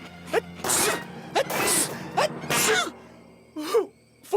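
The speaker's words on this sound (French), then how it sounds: "Ça va stopper mes éternuements." Garfield, the cartoon cat, sneezes repeatedly in a French-dubbed cartoon, with several sharp, loud sneezes and gasping intakes spaced across the moment.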